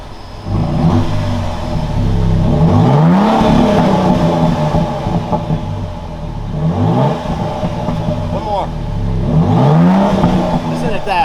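A 2023 Toyota Tundra TRD Pro pickup engine turns over and revs repeatedly through its exhaust, rising and falling in pitch, loud and close, with people speaking over it.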